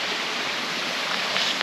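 A waterfall on the Secret Waterfalls ecotrail in Bulgaria, roughly four meters high, rushes in a constant, dense hiss heard up close, unbroken for the whole moment.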